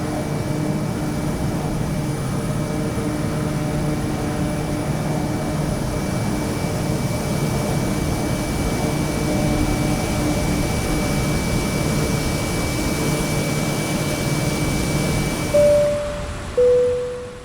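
A Kodiak 100 single-engine propeller plane cruises over Papua New Guinea in Microsoft Flight Simulator 2020, a steady loud drone of engine and propeller, broken near the end by a couple of short electronic cockpit tones.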